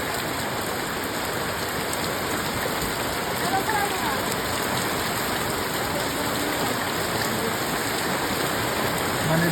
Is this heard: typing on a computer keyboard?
no